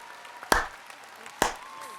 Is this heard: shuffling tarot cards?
no